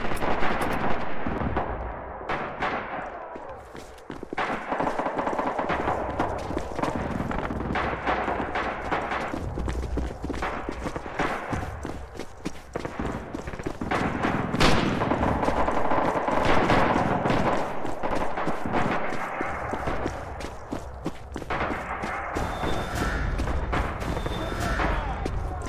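Battlefield gunfire in the video game Red Orchestra 2: repeated machine-gun bursts and single rifle cracks with distant artillery thuds, near and far shots overlapping throughout, loud and sustained with occasional voices underneath.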